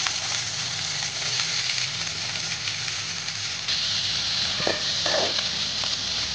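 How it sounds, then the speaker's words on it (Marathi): Onions sizzle in very hot oil for a dhaba-style mushroom masala, a loud continuous close frying hiss with a couple of brief spatters and stirring clicks toward the end. "तर मी हा कांदा तेलामध्ये घालते"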